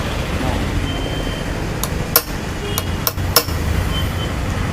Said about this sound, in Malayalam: ഒന്നും കൂടി ആഞ്ഞടിച്ചു നോക്കട്ടെ